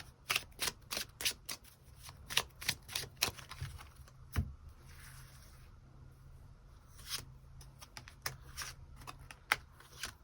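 Tarot cards are shuffled and drawn nearby, giving a series of crisp riffling snaps and flicks in irregular bursts with brief quiet gaps and no speech.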